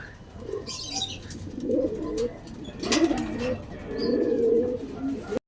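Pigeons coo repeatedly at their loft as birds arrive, the soft throaty calls overlapping in a steady run with faint chirps behind and a voice speaking low in the background.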